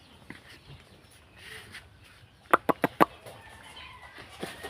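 A village chicken gives four sharp clucks in quick succession near the middle, against quiet background noise and a few faint scattered sounds.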